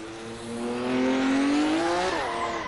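A 1200-horsepower race car in the racing game Assetto Corsa, engine note climbing steadily as it accelerates, then dropping sharply on a gear change, loud and close with no talk.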